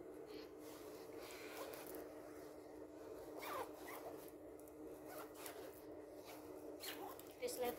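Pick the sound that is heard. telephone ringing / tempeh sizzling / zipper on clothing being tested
zipper on clothing being tested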